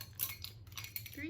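A metal teaspoon clinks and scrapes lightly against a container while salt is measured out in a home kitchen, a few faint, brief chinks close by.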